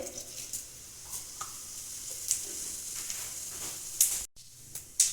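Cumin seeds sizzle in hot mustard oil in a wok on a gas stove: a soft, steady hiss broken by a few sharp crackles and pops, with no voices.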